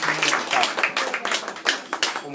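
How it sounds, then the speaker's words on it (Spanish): A crowd claps in steady applause for a couple of seconds, dense and fairly loud, with voices faintly mixed in. "con un gran aplauso para todos nosotros"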